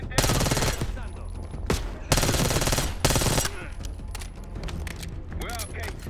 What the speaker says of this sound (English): the fast fire rate on this gun is insane